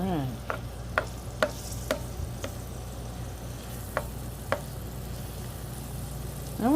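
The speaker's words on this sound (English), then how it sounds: "Hear it sizzling a little bit." Andouille sausage sizzling in vegetable oil in an electric skillet, a steady soft hiss of frying broken by several sharp clicks of stirring, moderately near and alone.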